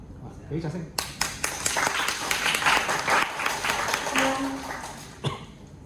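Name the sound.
audience applause for a singing contestant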